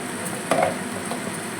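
Cumin seeds dropped into hot oil while peas paneer is cooked, a brief soft sizzle and crackle with a light stir, quiet and close, no talking over it.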